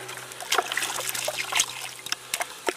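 Muddy clay water stirred by hand in a jug to break up particles at the bottom, heard as close, irregular sloshes, trickles and small splashes over a faint steady hum.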